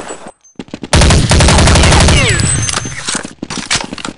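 Counter-Strike 1.6 automatic weapon fire bursts out loud after a few isolated shots, rattling steadily for about two seconds, then tapering into scattered single shots.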